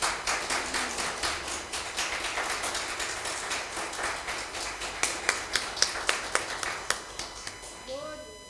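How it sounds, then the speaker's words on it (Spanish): A church congregation at a Spanish-language service claps together in a steady rhythm, many hands beating dense and close for several seconds, the claps growing sharper and more spaced toward the end. "Dele un aplauso al Señor esta noche."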